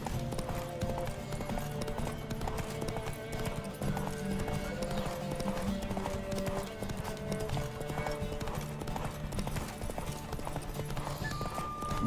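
Roach, the horse in The Witcher 3: Wild Hunt, gallops with steady, rapid hoof clip-clops carried continuously under loud game music, with a voice faintly present.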